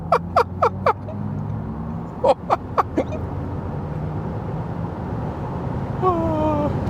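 An Audi RS e-tron GT electric car accelerates in dynamic mode from about 40 km/h, a steady cabin hum that swells at the end into a rising electric motor whine, after several short beeps and clicks at the start.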